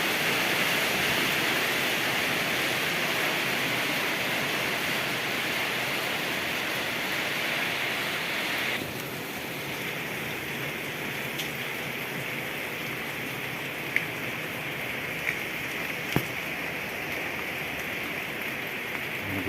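Steady heavy rain hisses without a break, thick and loud at first, then softer, with a few sharp drips or taps near the end.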